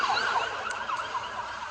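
Emergency sirens wail continuously amid storm recovery operations in Kentucky, a wavering high tone sweeping up and down at moderate distance over a steady background wash.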